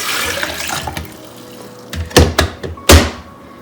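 Water from a kitchen tap running into a kettle for tea, a steady near rush at first, then a few louder thunks and splashes as the flow shifts, with no talking.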